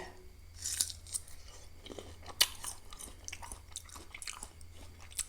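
Crunchy candied tamarind is chewed close up, with irregular crisp bites and crackles, fairly quiet and with no talking.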